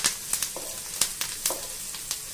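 Vegetables and small potato pieces sautéing in a pan for sago upma, giving a steady close sizzle with sharp crackles and stirring scrapes at irregular intervals, and no talking.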